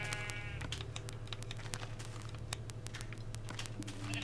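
A donkey in the Minecraft video game gives repeated short, nasal, bleating brays that are faint and close, with soft clicking in the background.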